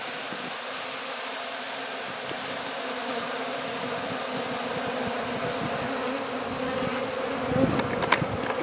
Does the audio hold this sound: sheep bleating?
no